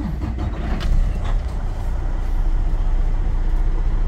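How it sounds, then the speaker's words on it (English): A CDL Class A truck's engine runs as a steady, loud low rumble, with a brief swell near the start and no voices. "All right, so now I will start the vehicle."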